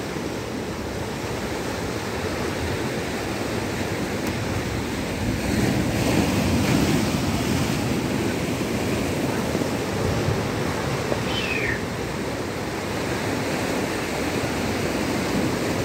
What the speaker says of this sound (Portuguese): E daqui a pouco vai vir uma onda com tudo aqui já.